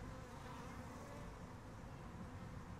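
Honey bees buzz steadily inside a hive, a dense, continuous droning hum heard up close and fairly soft, with no voices over it.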